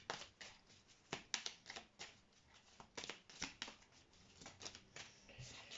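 Cards shuffled and then a single card drawn from a deck, heard as a close, quiet run of crisp riffling snaps and flicks with brief pauses between bursts.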